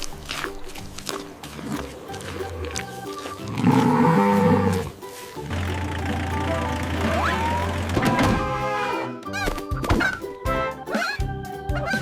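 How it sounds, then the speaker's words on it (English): A cow moos in a farm setting, a loud drawn-out low call, alone among other thumps and short animal noises. "This is a cow. Cow."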